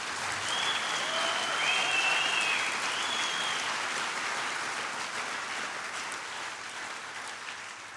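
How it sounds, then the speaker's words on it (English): An audience at a first-anniversary campaign event applauds itself, a steady wash of clapping with a whistle or two early on that holds at an even level and eases off slightly toward the end. "So give yourselves a round of applause to begin with."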